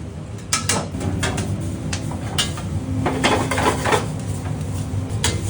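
Rice dry-roasting in a pan for Sri Lankan dark roasted curry powder, with steady scraping and clinking of a utensil against the pan over a low sizzle, close and moderately loud.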